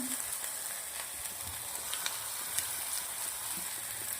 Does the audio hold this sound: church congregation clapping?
no